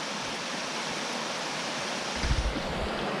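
Steady flow of a creek during rain, a constant hissing rush that stays close and even, with a short low rumble or gust near the end and no one speaking.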